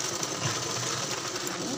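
A sewing machine stitches cloth around a cord for a blouse back neck, a steady, close, rapid mechanical chatter that runs unbroken for the whole moment.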